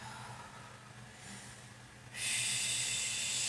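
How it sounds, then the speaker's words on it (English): Slow yoga breathing, a soft breath building gently and then a long, steady airy exhale that continues to the end, close and hushed. "Let's just reconnect with our breath."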